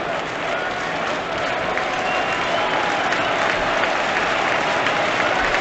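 A stadium crowd applauding at a Reds versus Brewers baseball game, a dense, steady wash of clapping from many people that holds for several seconds.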